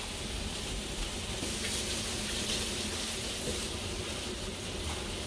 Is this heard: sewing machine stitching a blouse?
no